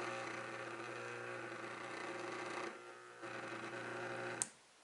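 A Ventisol electric fan motor on 127 volts, under repair, hums steadily as it strains to turn. The close, even electrical drone briefly drops out and returns, then cuts off after a sharp click.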